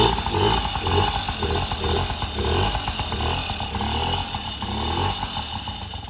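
An old motorcycle engine runs close by with a rough, uneven idle, its beat lumpy and wavering as it struggles to hold a steady tickover, with no talking.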